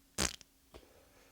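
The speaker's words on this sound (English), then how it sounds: "I like the fart sound when you drop things." A cartoonish fart sound effect plays when an item is dropped in Betrayal at Krondor, a short loud raspy burst with a tiny flutter at its tail and then a softer second puff just after.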